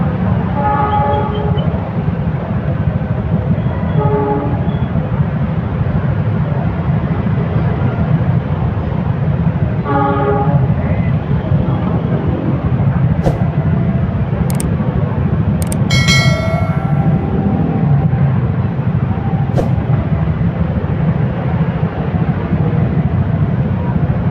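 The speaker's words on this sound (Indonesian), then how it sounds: "itu kereta udah mulai melintas" A train rumbles past steadily and loudly for the whole stretch in Bandung, Indonesia, with a short horn blast and a few people talking over it.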